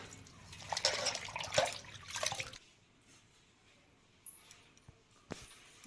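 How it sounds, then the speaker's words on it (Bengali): Ash gourd leaves being rinsed by hand in water, with busy splashing and sloshing for a couple of seconds, then quieter drips and a few light knocks. "প্রথমে আমি পাতাগুলি সুন্দর করে ধুয়ে নেব যাতে বালি চুলি না থাকে তার জন্য আমি ধুয়ে নিচ্ছি পাতা"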